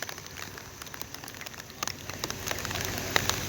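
Heavy rain falls during flooding in Jaffna, a steady close hiss of rain on surfaces with scattered sharper drips and patters that grow slightly louder toward the end.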